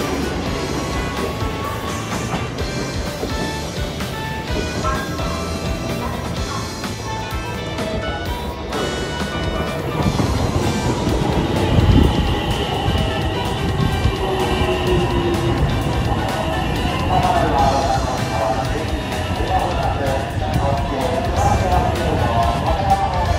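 A Kintetsu train at a station between Osaka Namba and Shin-Osaka, a loud, steady rumble of rolling wheels and motors with occasional metallic squeals and clanks, swelling midway as it passes close, while someone talks over it.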